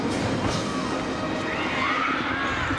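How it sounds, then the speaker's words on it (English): A stadium crowd cheering at a 1995 high school football game between Aiea and Kailua at Aloha Stadium, a steady, dense roar of voices and shouts that holds throughout. "Cheering."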